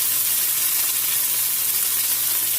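Goat meat hitting a hot pan, giving a loud, dense, continuous sizzle that stays close and steady throughout, with no talking.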